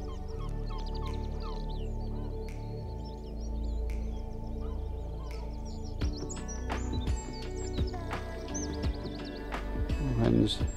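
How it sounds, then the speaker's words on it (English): Wrens sing and gulls call at a bog, with many short chirps and trills scattered across the clip, moderately close, over a steady low rumble and some overlapping calls. "Wrens singing away, gulls calling."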